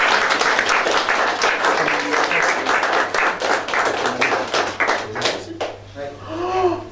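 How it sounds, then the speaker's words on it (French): An audience applauds for the Campanile director at a Miss Picardie 2020 gift ceremony, steady loud clapping for several seconds that fades near the end as a voice comes in. "j'aimerais qu'on l'applaudisse"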